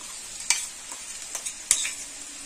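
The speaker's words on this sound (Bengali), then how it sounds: "এবার আমি পোস্তটা আলুর সঙ্গে খুব ভালোভাবে ভেজে নেব" Poppy seed and green chilli paste fries with potato pieces in a pan, giving a steady soft sizzle broken by a few sharp spoon scrapes and clicks against the metal, with no talking.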